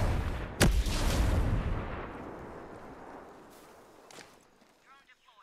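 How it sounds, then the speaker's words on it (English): Gunfire in the Ghost Recon Breakpoint video game during a custom PvP match at an R&D centre: a sharp loud shot followed by a long rumbling decay and a fainter later shot. "Gunfire."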